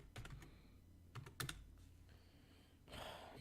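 Fingers type on a computer keyboard in short bursts of close, crisp key clicks separated by pauses, with a final flurry of rapid taps and no talking.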